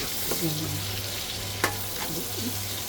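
Onion and garlic for pinakbet sizzle steadily in a pan, with a low hum underneath and a few sharp scraping and stirring clicks, one louder knock near the middle.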